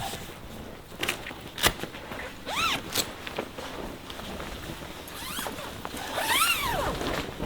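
The zipper on an Oztent RX4 tent is pulled in several quick rasping strokes, close by, with soft rustling of fabric between pulls.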